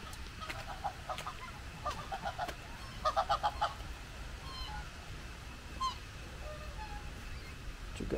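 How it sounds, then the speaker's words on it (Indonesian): Scattered duck quacks and honks, some in quick clusters, over a steady outdoor background of wind and distant noise, at Taxodium Lake in Sibolangit. "Ini masih bebek daerah sini."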